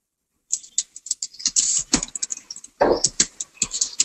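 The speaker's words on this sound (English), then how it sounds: "I'm typing something." Rapid, uneven keystrokes clatter on a computer keyboard close by, bursts of clicks with short pauses, alone without talk.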